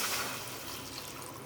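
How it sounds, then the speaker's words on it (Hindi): Water pours steadily into fish curry gravy in a pot, a continuous close splashing rush without pause. "इस तरह से हम पानी डाल देंगे।"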